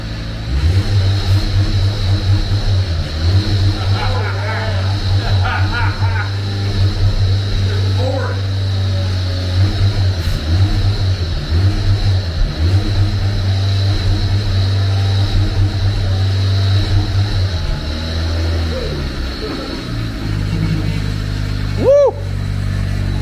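A flood-damaged Mazda Miata, left running after a hurricane, idles with a steady low engine drone that holds loud and close throughout, with a few brief rises in revs and some faint speech mixed in.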